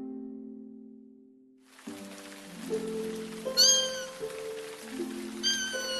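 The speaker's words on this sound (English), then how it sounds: "he was just a kitten on the street" A stray street kitten meows a few times, short bright mews standing out over soft sustained background tones.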